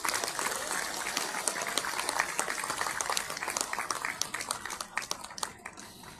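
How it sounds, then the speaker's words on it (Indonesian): A crowd at a university graduation ceremony at UPN Veteran Jakarta claps enthusiastically, a dense, sustained wash of applause that thins slightly toward the end. "Tepuk tangan yang semangat."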